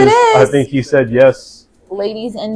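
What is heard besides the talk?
No distinct noise like a dog, phone or traffic.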